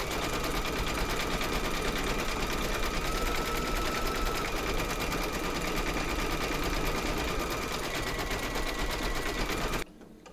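A sewing machine runs steadily and close up, satin stitching leaves in green thread with a matching bobbin, then stops abruptly near the end.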